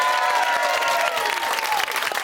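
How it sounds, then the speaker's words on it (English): A television studio audience of a celebrity reality show breaks into steady, loud applause, a thick wash of clapping with a few whoops that holds evenly throughout. "Give them a round of applause."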